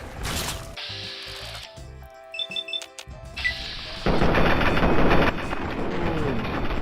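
Gunfire in Fallout 3: sharp cracks and clattering mechanical bursts with ratchet-like clicks, gaps of near silence between them, then a sustained loud rumbling burst of noise toward the end.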